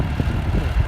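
A farm tractor engine runs steadily at close range in a pasture, a low continuous rumble with slight pulses, no talking over it.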